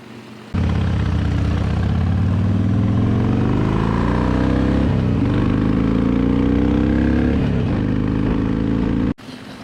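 A motorcycle carrying two riders cruises steadily, its engine droning loud and close throughout, with pitch rising and falling as it accelerates and shifts, before cutting off abruptly near the end.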